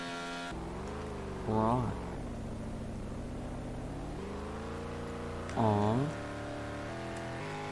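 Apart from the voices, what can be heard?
car driving in Car Dealership Tycoon video game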